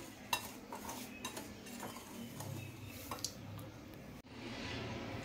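Semolina and flour being stirred together in a measuring cup, with a spoon clinking and scraping against the cup in short irregular taps, close and fairly quiet, no talking.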